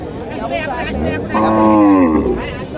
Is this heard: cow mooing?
yes